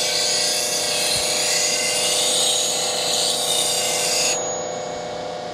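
A bench grinder relieving the back of a skew chisel in an adversarial grind whines at a steady, loud, high pitch, then the grinding drops away near the end, leaving a lower hum.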